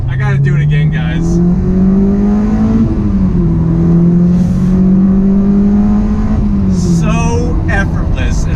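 A modified Honda S2000 sports car driving, its engine note climbing steadily through the gears with a brief dip and shift around the midpoint, loud and close from inside the cabin, with someone talking over it.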